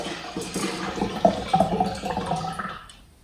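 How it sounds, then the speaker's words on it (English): Water is poured into a water supply system, a gushing, splashing rush that surges in uneven bursts and then fades away quickly, close and fairly loud with no speech. "and then pouring in the water"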